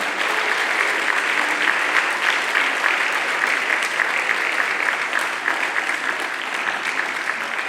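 A concert audience at the Roads & Rivers Concert applauds a tribute band with dense, steady, sustained clapping throughout.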